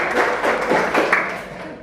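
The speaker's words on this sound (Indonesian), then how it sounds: "berikan aplaus buat Anissa ya" Classroom of students at school applauding a classmate, a dense, loud burst of many hands clapping close by, steady throughout the brief moment.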